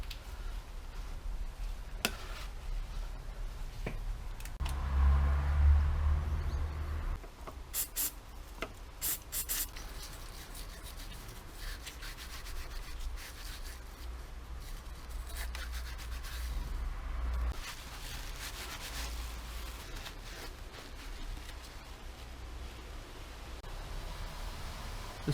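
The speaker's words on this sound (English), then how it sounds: "I'll just give the inside of the pipe a quick clean out." Someone scrubs out the inside of a clogged crankcase vent pipe from a BMW E46 330i M54 engine, producing faint, intermittent rubbing and scraping with occasional small ticks in a quiet room.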